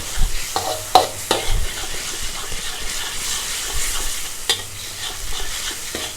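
Jellyfish stir-fried with holy basil in a pan, a steady sizzle of frying under scraping and stirring strokes against the metal, with a few sharp clanks, close and alone without talk.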